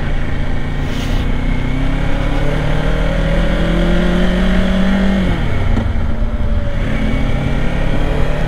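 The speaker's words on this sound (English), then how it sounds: "Got a car on my right, on my right, on my right." A car passes on the right of a 2024 Kawasaki Ninja 500 on a road ride, its engine note rising and sweeping past close by over constant loud wind and motorcycle engine noise.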